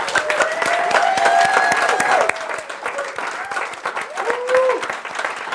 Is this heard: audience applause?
yes